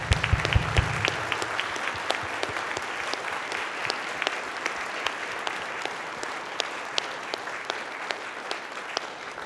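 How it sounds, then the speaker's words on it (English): A church congregation on Confirmation Sunday applauding the confirmands, a full, sustained round of clapping from many hands that stays even and continuous throughout, with a faint low hum at the start. "How about we give one more round of applause for these confirmands?"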